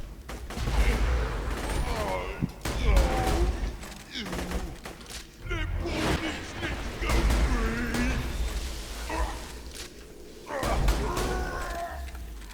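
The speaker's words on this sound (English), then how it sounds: "This quad certainly eats through the ammo pretty quickly with that fast fire rate and the 4 shots, 4 ammo per shot" Fast repeated quad gun shots in Borderlands 2, in bursts of punchy thuds through a temple setting. A voice talks over much of the firing.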